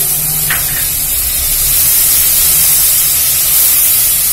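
Tomatoes hit sautéed onions in a hot pan for a green gram gravy. A loud, steady sizzling hiss fills the whole stretch without a break.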